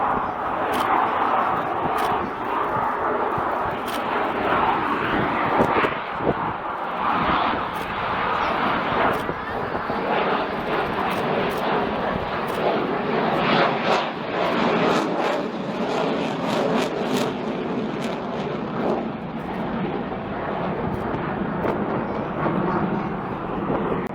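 Military jet making a slow pass at the RAF Cosford air show, a loud, sustained jet-engine roar that stays strong throughout under an announcer's commentary.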